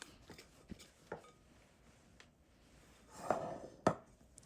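A dough scraper lifts and turns sourdough against a mixing bowl during pre-shaping: quiet scrapes and soft taps, a few faint clicks early, then two firmer scraping knocks near the end, close and sparse.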